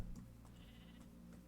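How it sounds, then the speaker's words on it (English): A Minecraft sheep gives a quiet, wavering bleat, faint and distant against a low background hum in the game world. "That's a sheep."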